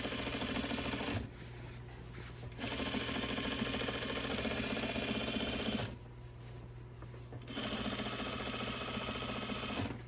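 A serger runs quietly in two sustained bursts while hemming a T-shirt, with a steady mechanical whir and a short pause between the runs.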